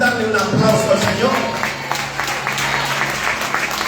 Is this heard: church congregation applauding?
yes